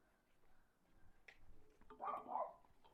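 A dog gives a short bark or whine near the end, fairly close, over a quiet indoor background with faint murmuring.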